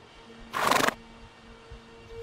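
A horse whinnies once, a short shrill neigh rising over a low steady background hum.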